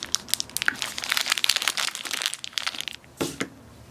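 Plastic packaging of a 3D puzzle being opened after a scissor cut, a quick run of close crinkling and crackling rustles with sharp snaps, ending in a few louder crunches.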